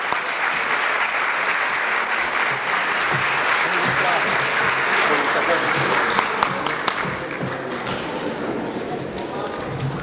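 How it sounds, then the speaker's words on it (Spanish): Loud, dense applause from an audience at a moot court awards ceremony as the best speaker winner comes forward, steady clapping filling the room for ten seconds with a little crowd murmur. "Un aplauso."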